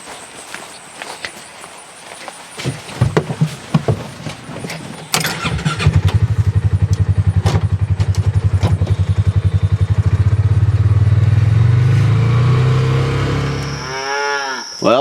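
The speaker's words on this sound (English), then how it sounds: "So let's hop in the UTV. We're going to go for a little ride" A UTV engine starts and idles steadily, then the vehicle drives off on a farm, with cattle mooing loudly nearby and footsteps before the engine catches; the engine drone stays loud to the end.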